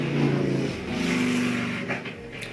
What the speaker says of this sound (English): Rude traffic.